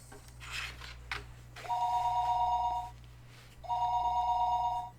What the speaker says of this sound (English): The phone rang, and I didn't know where the call was coming from.